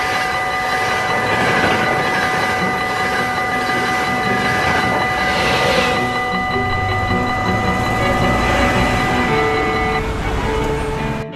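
A KRL commuter train in Indonesia rolls along with a steady loud rumble, while sustained electric tones hum and shift, and brief higher whines rise partway through the ride.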